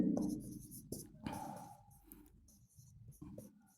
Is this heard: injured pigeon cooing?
no